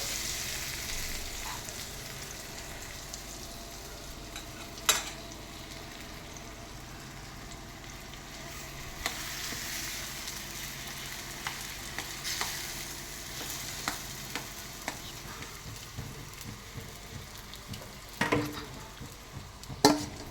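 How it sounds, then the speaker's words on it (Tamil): Masala being stirred and mixed in a frying pan, a faint steady sizzle under scattered soft scrapes and a few sharper knocks of the spoon against the pan. "இப்போ நல்லா மிக்ஸ் பண்ணிக்கணும்"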